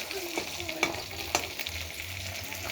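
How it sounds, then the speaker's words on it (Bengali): Garlic cloves and green chillies fry in oil in a pan with a close, steady sizzle, dotted with a few sharp crackles and pops, no voices over it. "এই লঙ্কাগুলো রসুনগুলো ভেজে নেব"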